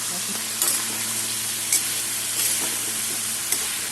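Vegetables fry hard in a pan with turmeric and salt, a loud continuous sizzle broken by a few sharp spatula knocks and scrapes at irregular intervals.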